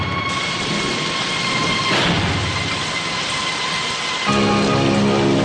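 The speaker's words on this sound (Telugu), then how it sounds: "పదరా, వర్షం వస్తుంది" Steady rain with a low thunder-like rumble fills the background, loud and continuous, with a swell near the middle and a heavier low rumble near the end; no one speaks.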